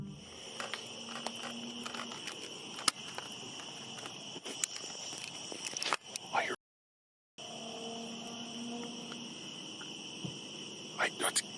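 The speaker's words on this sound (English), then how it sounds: "it's eerily quiet except for the sound of crickets" Crickets chirp at night in dark woods in a constant high-pitched drone, with occasional faint rustles and ticks, broken once by a brief moment of silence.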